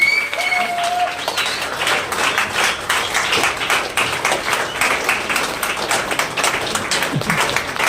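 At a celebration function in Makhdumpur, a hall crowd claps continuously in a loud, dense patter, with voices mixed in and a short electronic tone at the start.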